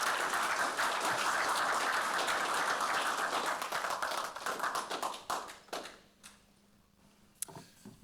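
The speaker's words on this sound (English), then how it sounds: "Please give him a big round of applause." At a Black History Month celebration, an audience gives a round of applause, steady dense clapping that thins and fades out over the last few seconds, leaving near silence with one stray clap.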